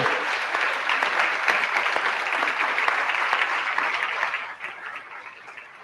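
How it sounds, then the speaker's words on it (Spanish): Church congregation applause at a Sunday service, dense sustained clapping from many people that holds steady, then thins and fades toward the end. "Dale ese aplauso al Señor"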